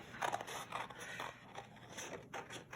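Scissors cut out a small paper embellishment for a scrapbook page kit, giving quiet, close snips and crisp paper rustles in a quick, uneven rhythm, with no talking.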